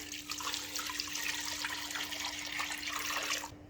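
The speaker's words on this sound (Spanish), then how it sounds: "Entonces vamos a echar agua." Water pours from a tap into a pot holding beef for shredding, a steady bright rush that runs for several seconds before cutting off, with a faint constant hum beneath.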